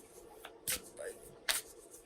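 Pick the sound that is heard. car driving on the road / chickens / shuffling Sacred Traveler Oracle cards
shuffling Sacred Traveler Oracle cards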